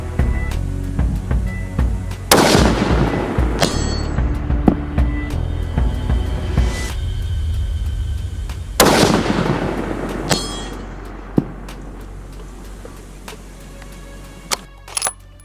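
Three loud rifle shots from a Remington 700 SPS Tactical AAC-SD in 6.5 Creedmoor, fired outdoors at a 1000-yard range, each sharp crack followed by a long rolling echo, with a few faint clicks between.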